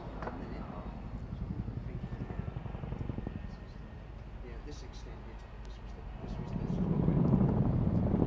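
A Chinook heavy-lift helicopter's rotor thump and engine drone at an airshow, moderately distant, with a voice talking over it; the engine swells louder toward the end.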